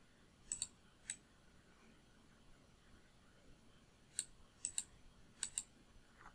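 Computer mouse clicking while placing walls in Revit 2019 software, a few crisp close clicks in small pairs and singles separated by quiet pauses.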